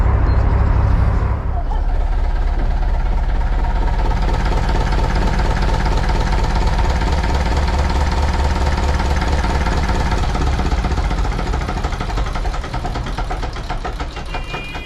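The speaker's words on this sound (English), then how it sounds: "That's how we turn up our engine in the boat" Boat engine idling on a broad, a steady close mechanical chug with a regular knocking pulse that holds evenly throughout and fades slightly at the end.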